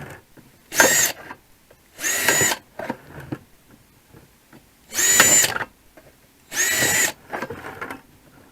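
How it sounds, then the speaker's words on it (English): A power drill whirs in four short bursts of about half a second each, close by, drilling holes around the outside of a bucket, with brief scraping and handling noises between them. "just drill a bunch of holes around the outside"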